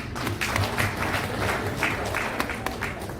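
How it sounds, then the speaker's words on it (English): An audience breaks into sustained applause at a women's activism dialogue, a dense, even wash of many hands clapping close by for the full stretch. "Clap for her."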